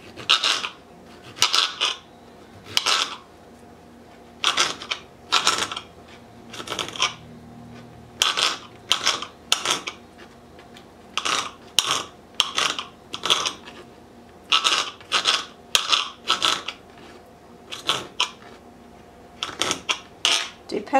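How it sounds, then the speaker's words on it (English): Kitchen knife chopping tomatoes on a cutting board for guacamole: sharp, close knocks in quick bursts of two to four, separated by short pauses and repeated steadily throughout. "now I'm going to take my tomatoes and I'm just going to start chopping those up"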